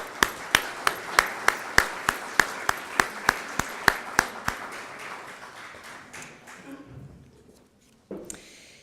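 At an awards ceremony, crisp handclaps ring out near the microphone in a steady, even beat, about fifteen claps, then thin out into scattered softer clapping and quiet before a brief burst of noise.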